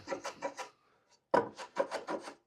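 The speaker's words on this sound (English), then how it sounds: "Little block plane work." Block plane trimming small honey locust wood blocks, a run of quick rasping strokes, a short pause, then another burst of close, rhythmic shaving passes.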